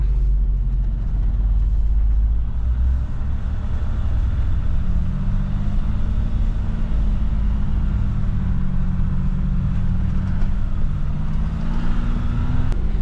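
Jeep grinding slowly up a steep dirt off-road trail on Telegraph Line Trail in Arizona, a constant low engine rumble with drivetrain drone and occasional shifts in pitch, close and loud throughout, no voices.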